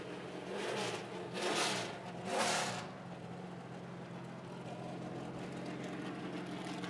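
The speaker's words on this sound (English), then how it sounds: "you hear those cars tuning up." Several Sprint Cup race car engines rev in three short, swelling bursts in the garage at Phoenix, fairly distant, then settle into a steady low engine drone.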